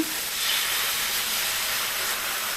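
Ragi dosa batter poured onto a hot pan for an instant, unfermented dosa, giving a steady, fairly loud sizzling hiss that holds evenly throughout with no talking.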